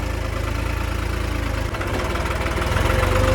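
A farm tubewell motor engine runs steadily beside irrigated fields, a loud, continuous low throbbing idle with a rhythmic knocking pulse, close by and alone with no talk.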